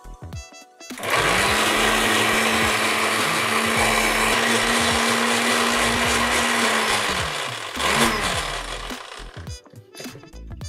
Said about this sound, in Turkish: Blender'da çekiyorum.